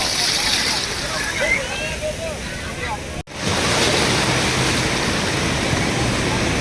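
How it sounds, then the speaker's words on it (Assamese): Ocean waves wash onto a Goa beach in a loud, steady roar with wind buffeting the microphone. The surf briefly cuts out near the middle before the rushing resumes. "এয়াই হৈছে পানী ঢৌ সাগৰৰ"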